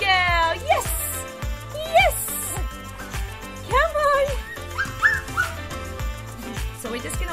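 A young puppy on an outdoor training outing whimpers and yips in short, high cries that come in uneven bursts, close by, amid a person's soft coaxing speech.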